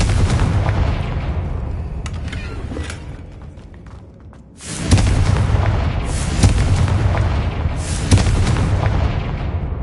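A Confringo spell explosion in the Hogwarts Legacy video game produces loud booming blasts with rumbling bursts, a brief dip, then another heavy sustained explosion and repeated impacts.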